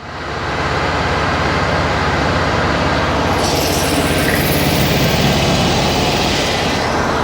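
A supercharged stock 1600cc engine holds a steady fast idle around 2100 rpm, a loud, continuous broadband drone close by with no break and no talking.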